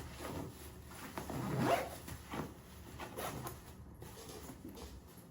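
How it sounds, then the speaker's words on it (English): A zipper pulled closed on a Bagsmart compression bag packed with a jacket, one soft drawn-out zip followed by faint fabric rustles, quiet and close with no talking. "So I'm gonna start zipping this up and look at how small it gets."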